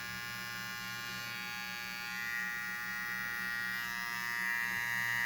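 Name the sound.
ORIHEA cordless rechargeable all-in-1 trimmer running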